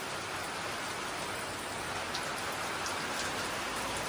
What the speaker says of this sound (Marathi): पावसाचं झालं आहे आगमन, जोराजोरानं सुरू आहे.